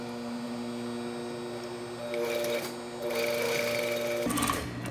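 A sewing machine stitches a dart on a basic bodice in two short whirring bursts over a constant low electrical hum, close and moderately quiet.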